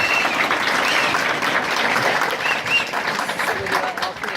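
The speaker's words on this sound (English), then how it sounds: "Give yourselves a round of applause for coming out on this cold night." A room of community members at a police accountability meeting on a cold night claps steadily, a loud, continuous round of applause with a faint voice underneath.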